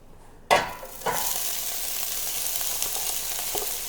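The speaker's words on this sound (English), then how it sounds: "the first thing that I'm going to do is saute some veggies in some oil in a pan here" Broccoli, peppers and red onion hit hot oil in a pan with a sharp sizzle, then a second addition swells into a steady, close, loud frying hiss with faint stirring scrapes.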